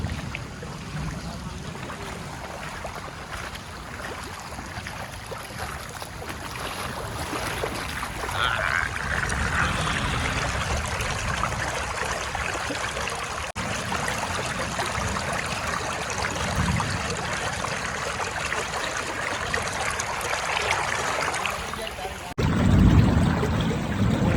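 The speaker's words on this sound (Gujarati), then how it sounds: "ગામની બાજુમાં નદી આવી ગઈ છે ફૂલ." A steady, broad rush of fast-flowing water runs throughout, loud and continuous, with a brief burst of louder noise near the end.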